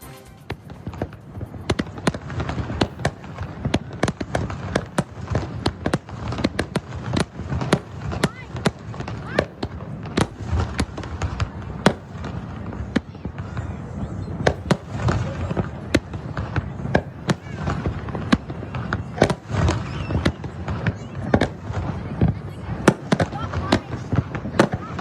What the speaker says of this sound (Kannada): ಪ್ರಸಿದ್ಧ ರಹಾ ಬೀಚ್ನಲ್ಲಿ ಆಕರ್ಷಕ ಲೈಟಿಂಗ್ ಶೋ ಹಾಗೂ ಬಣ್ಣ ಬಣ್ಣದ ಪಟಾಕಿ ಸಿಡಿಸಿ ಹೊಸ ವರ್ಷವನ್ನ ಸ್ವಾಗತ ಮಾಡಲಾಯಿತು